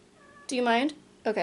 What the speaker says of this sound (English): So if you hear meowing, that's my cat, by the way.